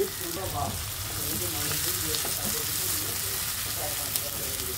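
Chopped onions and green chillies frying in soybean oil for chicken noodles, a steady close sizzle with faint stirring, a voice murmuring underneath.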